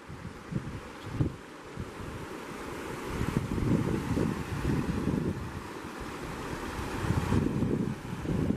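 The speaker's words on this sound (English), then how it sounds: "The breeze off the water is great, but it is breezy." A steady, gusty breeze blowing off a river at a campsite, rushing continuously with broadband wind buffeting on the microphone and fluctuating gusts throughout.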